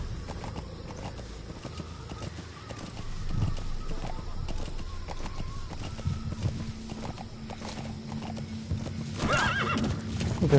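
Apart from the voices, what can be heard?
white horse galloping and neighing, from a video game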